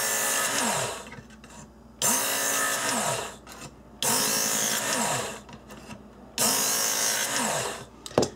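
A belt grinder sharpening a small paring knife runs in four long, loud passes of steady whirring and grinding, with short quieter gaps between them and no talking.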